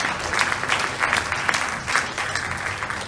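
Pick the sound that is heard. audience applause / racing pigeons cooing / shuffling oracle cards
audience applause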